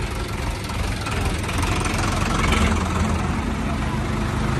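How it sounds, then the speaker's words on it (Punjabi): A tractor engine idles and rumbles in a Punjabi village gathering at Harigarh, Dirba, a loud, steady, knocking drone that fills the whole stretch without pause. "ਉਧਰ ਟਰੈਕਟਰ ਆਇਆ"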